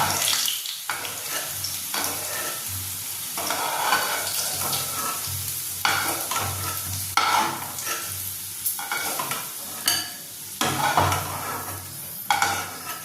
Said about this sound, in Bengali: আলুগুলো আমার লাল করে ভাজা হয়ে গেছে